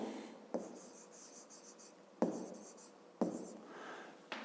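A pen writes a number by hand on paper in a quiet room, with four distinct tap-starts followed by soft scratching strokes, close and faint, no speech.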